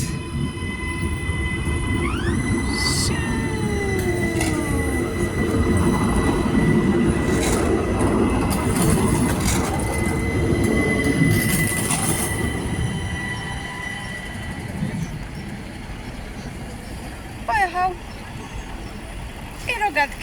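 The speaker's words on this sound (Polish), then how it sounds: "Jedzie pociąg z daleka." A train at Brienz station in Switzerland rumbles steadily nearby with high metallic wheel squeals and tones, then quiets, leaving a few faint clicks at the end.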